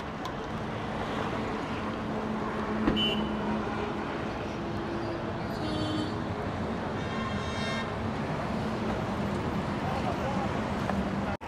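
Maharashtra ST bus pulling away from Talegaon on the Bhayander to Kolhapur route, a steady rumbling engine and road roar heard from inside the cabin, continuous and fairly loud with wind noise, and faint voices in the background.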